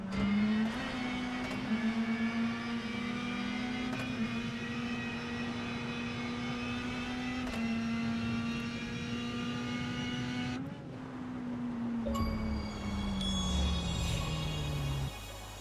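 A rally car in the WRC 10 video game drives with a sustained, buzzing engine note that climbs and dips with shifts, loud and alone with no talk, ending in a brief change of pitch.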